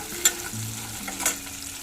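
Peanuts and split chickpeas with green chillies fry in hot oil, a soft steady sizzle broken by a couple of brief stirring clinks, with a low tonal hum underneath.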